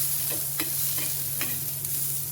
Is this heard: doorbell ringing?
no